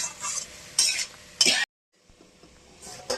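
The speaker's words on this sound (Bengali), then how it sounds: "এবার একটু নাড়াচাড়া করে বন্ধুরা, লাউ থেকে তো জল বেরোয়" Bottle gourd being stirred in a pan as it cooks, a few short scraping strokes of a utensil over a soft sizzle, with a brief quiet gap before stirring resumes.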